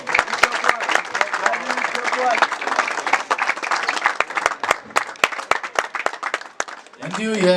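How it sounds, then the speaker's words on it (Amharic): An audience at an award ceremony applauds, dense sustained clapping close and loud throughout, with a voice cutting in right at the end. "ጭብጨባ ያንሳል።"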